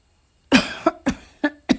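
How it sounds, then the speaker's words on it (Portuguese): A single light human cough opens, then a short run of small coughs and throat sounds follows in a quick irregular rhythm, close and fairly clear against a quiet background. "Dei uma tossida de leve para verificar que quem falava era eu"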